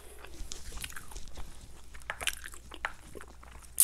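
Sour, crunchy kimchi is chewed close to the mic during a Korean noodle mukbang, giving repeated wet crunches and bites in an irregular rhythm with no talking.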